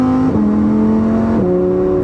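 Lamborghini Huracan Performante engine revving loud and steady, its pitch climbing then dropping at two quick upshifts as it pulls through the gears.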